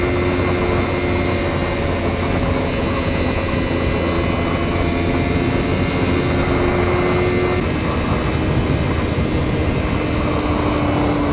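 A Kawasaki Ninja 250FI motorcycle engine drones loudly and steadily, its pitch climbing gradually through the gears as it accelerates toward top speed, mixed with constant wind rush and no talk.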